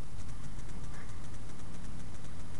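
A motorbike engine idles close by in a steady low rumble with a fast, even pulse that runs unbroken through the whole stretch, with no voices over it.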